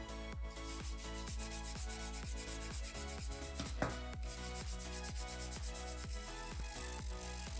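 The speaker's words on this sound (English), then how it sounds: "we are going to lightly sand down the inner as well as the outer sides of the clay pot" A clay pot for an olla watering vessel is sanded by hand with steady, rhythmic rubbing strokes, about two per second, close and quiet, with no talking.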